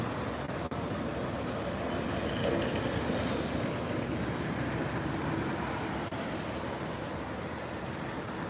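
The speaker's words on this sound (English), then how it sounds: "So here is the tram" A tram passes on a street in central Kaliningrad, Russia, with a steady heavy rolling rumble, faint wheel squeal and surrounding city traffic noise throughout.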